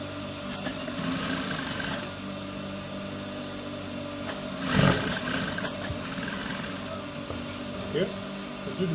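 A domestic sewing machine runs steadily, stitching the shoulder seam of a senator top at a half-inch seam allowance, with a continuous close mechanical whir and a few brief bumps, while a person talks over it.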